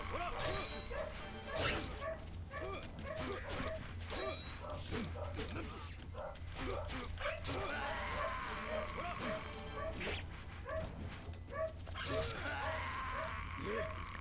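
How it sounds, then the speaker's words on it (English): Dog barking in a house, a series of yips and barks repeating throughout, fairly faint and set behind game music and sound effects from Way of the Samurai. "don't mind any dog barking you may be hearing"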